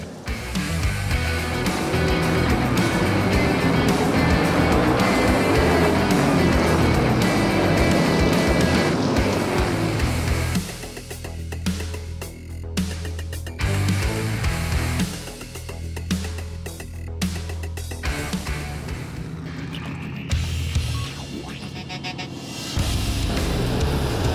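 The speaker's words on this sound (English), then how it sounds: "this will be my first race in my new car for this season, my limited late model" A limited late model race car engine roars at a speedway on opening day, loud and continuous at first, then dropping into rougher revving with intermittent surges.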